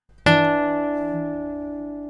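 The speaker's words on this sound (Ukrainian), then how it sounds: "Якщо ви сказали, що цей інтервал мала септіма, то ви праві" A minor seventh played as two tones struck together on a keyboard, a bright attack that rings and decays slowly, a dissonant interval sounding alone.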